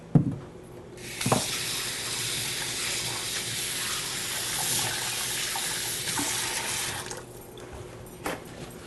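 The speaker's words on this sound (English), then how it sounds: "And now it's time to wash my hands." Tap water runs steadily into a sink as hands are washed, a continuous close splashing stream lasting several seconds with brief knocks at the start and end.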